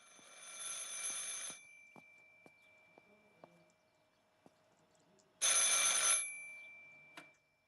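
An old telephone bell rings in the video game Martha is Dead, two loud metallic bursts several seconds apart separated by quiet ticks and clicks.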